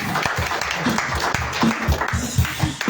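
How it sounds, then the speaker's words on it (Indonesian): A crowd claps together in a steady, dense patter of applause, with a faint voice underneath. "Tepuk tangannya mana?"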